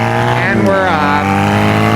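Honda Rebel 250 motorcycle engine while riding, a steady loud hum with a rising and falling pitch as the small engine winds through its power band, with wind noise and a voice heard faintly over it.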